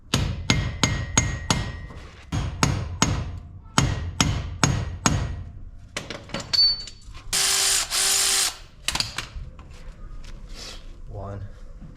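A hammer strikes a socket set over the ball joint nut on a 2003 Ford F250. The sharp metallic blows come in quick bursts, followed by a pause, a brief whirring power tool and scattered clanks, with a voice speaking at the end.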